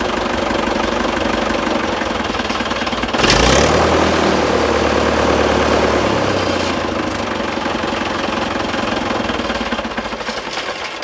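A small engine chugs loudly and steadily throughout, with a rapid knocking rhythm that briefly surges and deepens partway through.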